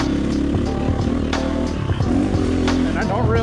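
A motorcycle engine runs and revs during aftermarket ECU testing, rising and falling with throttle blips, while someone talks over it.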